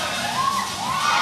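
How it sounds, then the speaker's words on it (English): Spectators at the Gravity Bowl 7 climbing competition in Cape Town cheer and shout, a lively wash of crowd noise with rising whoops and whistling yells over the din. "And the crowd is going crazy."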